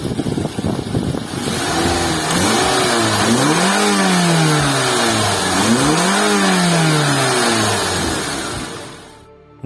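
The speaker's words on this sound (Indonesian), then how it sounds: "kita pengen coba denger juga suara mesinnya kayak apa gitu ya" A first-generation Toyota Alphard's 2.4L inline-four engine starts up and settles into a steady idle with a couple of rising revs, loud and close with no talking.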